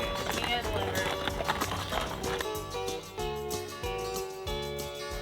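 Hooves clip-clop steadily as horses walk along, with music playing underneath.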